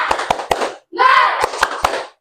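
A class of students performing the rhythmic 'tepuk semangat' clap, sharp loud group claps in a patterned beat mixed with children chanting along in unison.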